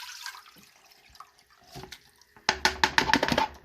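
Sea moss soaking water poured into a pot, a soft trickle early on building into louder splashing and dripping pours near the end, close by with no talking.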